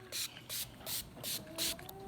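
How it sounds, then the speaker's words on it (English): Five quick sprays of Give a Hoot eco cleaner from a pump spray bottle, short bursts of hiss in an even rhythm, close and fairly soft. "I spray it, and then let's wipe."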